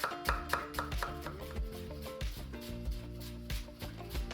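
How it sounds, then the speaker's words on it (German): Knife chopping half a small onion extremely fine on a board: a steady series of close, sharp taps running throughout, with music-like tones playing underneath. "Eine halbe kleine Zwiebel wird extrem fein gehackt"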